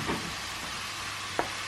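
Shallots browning in a pan give a steady, close sizzle of frying with a couple of brief clicks of stirring, quiet and with no voices.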